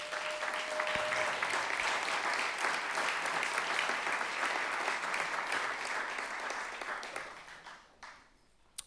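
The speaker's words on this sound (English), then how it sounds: "Give Randall a big clap." An audience at a motivational seminar applauds as a man is called to the stage, a full, sustained burst of clapping from a crowd that holds steady for several seconds and then fades to silence near the end.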